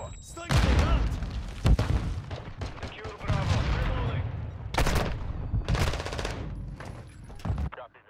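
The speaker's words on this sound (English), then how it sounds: "Stun grenade out!" Gunfire and a stun grenade blast in the game Call of Duty: Modern Warfare II, with bursts of rapid automatic fire from a Kastov 7.62 rifle and heavy booms over continuous battle noise, loud and dense throughout.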